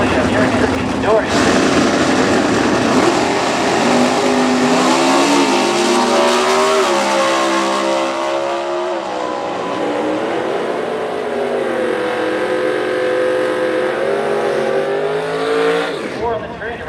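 A super stock truck with a 336 cubic inch engine roars down a drag strip, loud and close, its pitch climbing through gear changes over many seconds before it cuts off. An announcer talks over the run.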